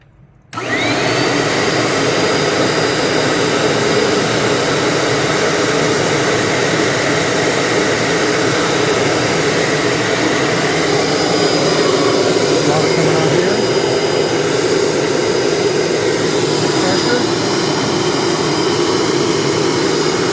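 A Bissell Little Green ProHeat carpet cleaner switches on abruptly and runs at a loud, steady roar that drones on without pause.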